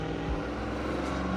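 A minitruck engine idles roughly on a cold morning, a steady low mechanical drone that stays close and even throughout, with no voices over it.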